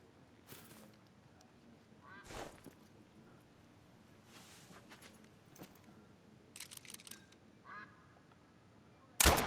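Ducks quacking in the hunting game Call of the Wild, set in a Scottish field: several short bursts of calls scattered over the scene, some near and some faint, ending in a loud sharp sound.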